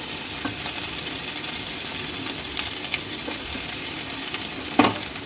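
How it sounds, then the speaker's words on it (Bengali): A chopped large onion, added with dried red chillies, fries in hot oil in a pan for butter chicken, giving a steady, even sizzle with occasional light stirring ticks, close by and without voices. "পেঁয়াজটা একটু ভাজা করে নেব"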